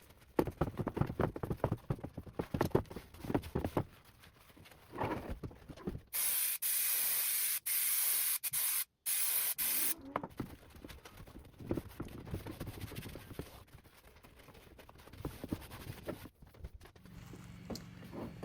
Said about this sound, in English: spray contact adhesive on the foam and the inside of the cover